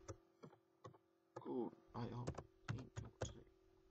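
Someone types again on a computer keyboard in bursts of close, sharp key clicks, with a short flurry of rapid strokes in the middle, over a steady low electrical hum.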